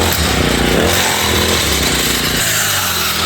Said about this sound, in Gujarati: તમને હું ચાલુ કરીને બતાવું કે જે આ બ્રશ મશીન છે આ બટનથી ચાલુ થાય છે